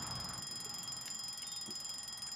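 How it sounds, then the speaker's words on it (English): An alarm clock in the video game A Bird Story rings with a rapid, evenly pulsing beep that repeats without pause at low volume. "So we had an alarm clock just go off."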